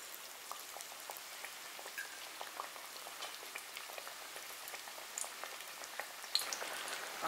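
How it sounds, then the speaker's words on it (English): Vegan shrimp and calamari sizzle in a frying pan, a soft, steady crackle of oil with scattered pops throughout, no voices. "get ready to fry these bad boys"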